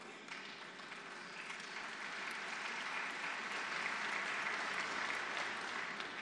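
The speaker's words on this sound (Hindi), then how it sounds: "लेकिन अब ज्यादा ताली एक और बात पर आपको बजानी पड़ेगी" An audience applauds during a prime minister's speech at a plenary session of the St Petersburg International Economic Forum, steady, even clapping from a large hall, heard from a distance and fairly faint, building slightly and holding throughout.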